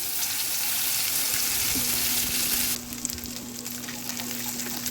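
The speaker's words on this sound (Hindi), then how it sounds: "ऑयल जब हमारा गर्म हो चुका है उसमें हमने लहसुन का पेस्ट डालना है" A steady loud sizzle of garlic paste frying in hot oil, close by, easing slightly partway through while a faint tone continues.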